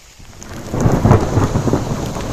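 A deep rolling thunderclap swells up out of steady rain in a January hailstorm and rumbles on loudly, close by, with rain pattering throughout.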